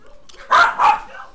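Two sharp, close barks in quick succession come from dogs at play, the second slightly longer than the first, followed by quiet.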